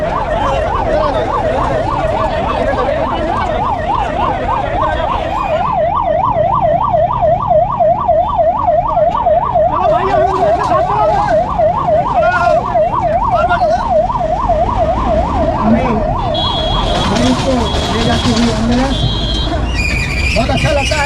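An ambulance siren sounds loud and close with a fast repeating wail as it passes through a crowd near the Singtali motor bridge, with crowd noise and voices underneath and the siren fading toward the end.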